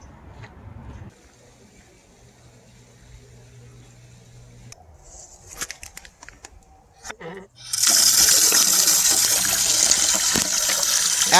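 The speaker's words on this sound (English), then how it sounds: "After getting my water at the Johnson Rock water spigot" Water runs from a trail water spigot at a hiking stop in the San Gabriel Mountains, starting quietly, then after some handling noises gushing loudly and steadily into a container.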